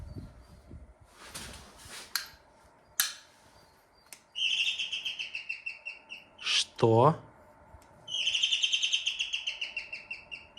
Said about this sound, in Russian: Мне показалось, что это птица, но это дверной звонок